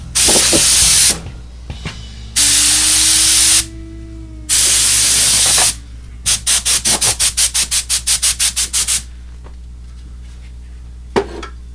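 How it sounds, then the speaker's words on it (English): A can of compressed air sprays at a guitar workbench during fretwork on a Charvel, with three long, loud hissing blasts followed by a rapid series of short puffs, close up with no talking. "I have cans of compressed air at my workbench because it's nice to just get rid and blow in the direction away from pickups."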